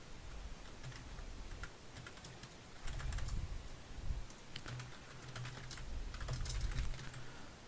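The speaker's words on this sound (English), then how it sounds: "as I was typing it" Soft, quick keystrokes clatter steadily on a computer keyboard, quiet and close, with no voices.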